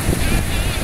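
Steady, broadband wind rushing across the microphone outdoors at a beach in Guarapari, Brazil, a continuous rumbling buffet with no pauses, fairly loud and close.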